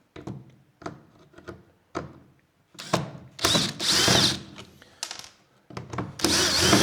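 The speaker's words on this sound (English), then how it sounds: "We'll use the drill." A power drill set to hammer mode runs in a series of short bursts, stopping and restarting, with longer harsh rattling runs toward the end, close and loud.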